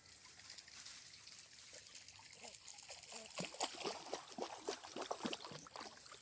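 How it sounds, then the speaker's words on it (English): Puppies swim through shallow water in a flood-damaged city creek bed, stirring up steady splashing and trickling that grows busier and louder toward the end, close by over a constant background hiss of running water. "Puppies are having their first swim."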